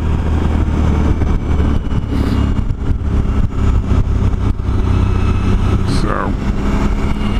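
A Suzuki V-Strom 1000 motorcycle hums steadily while riding, its engine drone partly buried under heavy wind rush, with a voice faintly present.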